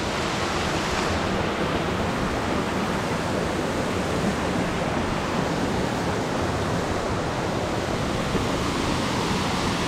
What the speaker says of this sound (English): don't let that distract you from this beautiful waterfall